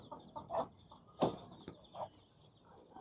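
Laying hens in a small cage cluck in scattered, soft bursts, several separate calls spread across a quiet background.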